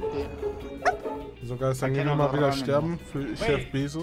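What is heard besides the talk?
dog barking in the background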